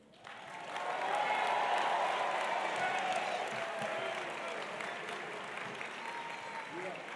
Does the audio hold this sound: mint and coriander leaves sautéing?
no